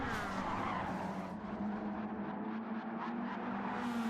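Stock cars race in the GTO strictly stock series, a steady, moderately distant drone of several engines blending with tire squeal, continuous throughout without a clear pass-by.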